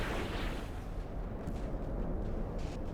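Torpedoes launch from a warship in the naval game Ultimate Admiral: Dreadnoughts, a heavy, sustained rumbling blast that fills the moment with dense low booming and no voices.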